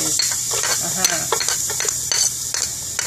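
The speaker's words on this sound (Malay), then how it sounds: "Bahannya bawang putih dan kita terus tumis." Garlic sautés in a hot pan with a steady bright sizzle, while a utensil stirs and scrapes in short repeated strokes close by.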